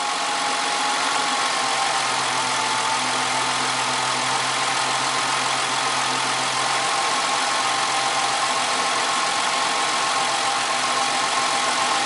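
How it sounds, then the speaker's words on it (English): A 1998 Ford Contour engine with an EGR flow fault idles steadily and evenly for the whole stretch, a continuous close hum with a faint hiss and no change in pace. "the car's idling"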